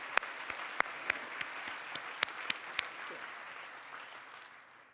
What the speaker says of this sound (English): Let's give our leadership team a round of applause.